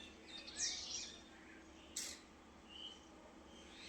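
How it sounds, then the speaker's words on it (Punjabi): Faint, distant morning bird chirps, a few high tweets scattered over a soft outdoor hush with steady low background noise. "ਪੰਛੀ ਬੋਲ ਰਹੇ ਆ ਸਵੇਰੇ ਸਵੇਰੇ ਬਹੁਤ ਵਧੀਆ ਲੱਗਦਾ"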